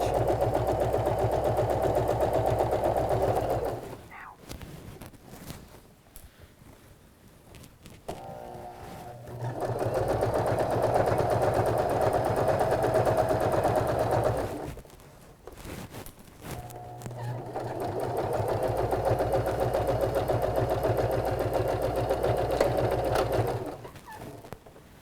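A sewing machine runs in three long bursts, back-stitching a seam on a fabric sleepover bag. Each steady mechanical whir lasts several seconds and is loud and close, with short quiet pauses between the runs.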